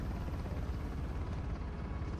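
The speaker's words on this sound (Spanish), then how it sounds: "hay que tener cuidado con ese helicóptero" Low, rumbling helicopter drone passing overhead in Uncharted: The Lost Legacy, a broad steady wash of rotor noise with no talk over it.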